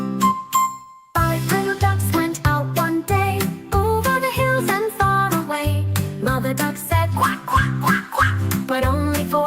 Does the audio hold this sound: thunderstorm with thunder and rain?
no